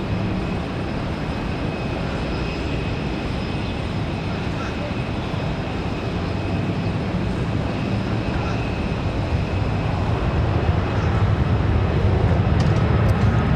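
A United airliner arriving at Raleigh-Durham on a windy day makes a continuous low engine rumble that swells slightly toward the end, with some speech faintly mixed in.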